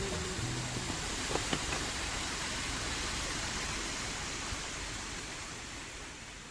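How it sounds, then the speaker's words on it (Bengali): Steady broadband rushing of a waterfall on the Roing–Anini road in Arunachal Pradesh, constant and fairly distant, filling the background without pause. "কোত্থেকে নামছে রে ঝর্ণাটা?"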